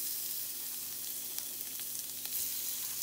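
Shrimp burgers frying in hot grease, a steady close sizzle with scattered small pops and crackles running throughout.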